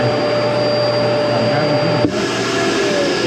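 A vacuum cleaner runs through a hose in an RV orientation setting, a steady loud whine with a constant tone, briefly interrupted by a small bump near the end.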